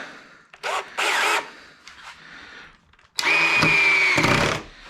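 A power drill drives drywall screws into oak boards for a stackable wooden compost bin, a few short whirring bursts followed by a longer, louder run with a steady whine, close by and without talk.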